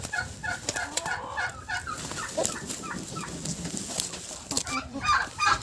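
A turkey hen and other farmyard poultry calling, intermittent clucks and gobbling bursts at moderate distance, scattered irregularly over low background noise.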